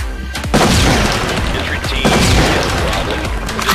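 Grenade blasts in the SWAT 4 video game, a heavy boom near the start followed by a second burst around midway, with crashing debris and voices talking over the loud, dense din.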